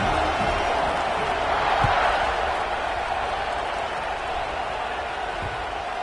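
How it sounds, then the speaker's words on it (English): Football stadium crowd at an Ole Miss vs USC game buzzing after a score: a dense, steady roar of many voices swelling slightly, with faint thumps underneath. "this crowd is buzzing after that last score"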